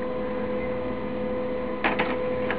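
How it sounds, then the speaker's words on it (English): A home printer prints a sheet of graph paper, running with a steady mechanical hum and whir, with a few short, louder clicks or clunks of the paper feed near the end; no one talks. "I hear it going to the printer."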